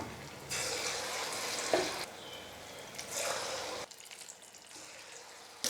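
Sweet bonda batter frying in hot oil gives a continuous bubbling sizzle that swells and fades in bursts, close and fairly soft, with no talking.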